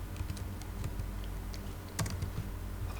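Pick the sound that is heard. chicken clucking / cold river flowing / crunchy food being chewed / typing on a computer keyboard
typing on a computer keyboard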